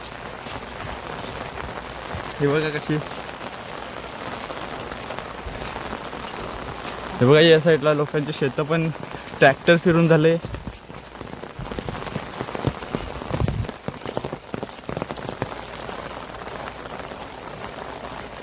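Heavy rain pours on farm fields in a steady hiss of drops hitting surfaces, continuous throughout, while people talk over it in short bursts.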